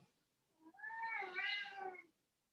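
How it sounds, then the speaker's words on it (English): A house cat lets out one drawn-out, wavering meow of about a second and a half, close and clear, in an otherwise quiet indoor room with no talking over it. "My cat is also agreeing with us here."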